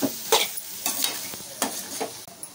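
Mango mixture stirred and frying in a pan, a spoon scraping through it in repeated irregular strokes over a soft steady sizzle, close and fairly loud with no voices.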